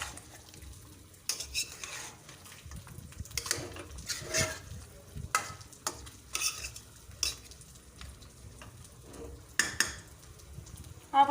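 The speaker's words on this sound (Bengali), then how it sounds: "ভালো করে মশলাটা মিশিয়ে নিচ্ছি।" A spoon stirs mutton and spices in a cooking pot with repeated scraping and clinking strokes over a soft sizzle, close and fairly quiet.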